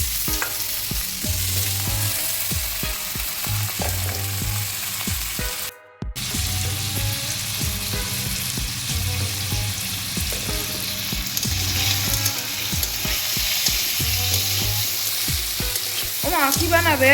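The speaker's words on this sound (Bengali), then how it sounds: "এদিকে আলু ভাজা হচ্ছে" Potatoes fry in a pan for a home-style cauliflower and pea curry. A loud, steady sizzle runs throughout with frequent scraping stirs, and the sound cuts out briefly partway through.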